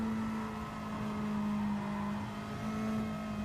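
A Toyota Supra race car engine in a racing video game drones at high revs with a steady tonal whine, briefly easing and then climbing again as the throttle is worked.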